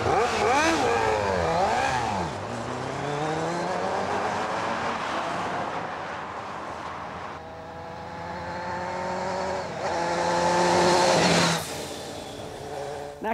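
A Honda CBR 400 inline-four motorcycle screams along narrow, twisty country lanes, revving high with rising and falling pitch through repeated gear changes, loud and close throughout.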